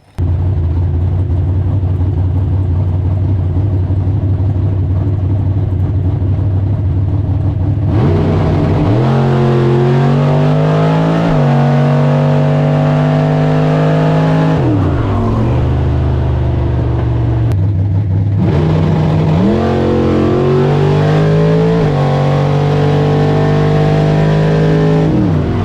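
Mopar drag race car at a bracket racing event roaring loudly at the line, then accelerating hard down the track with rising engine pitch through gear changes, a second surge following after a brief drop.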